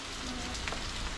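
Rain falling heavily outdoors, a dense steady hiss of drops on surfaces filling the whole moment, loud and close, then cut off abruptly.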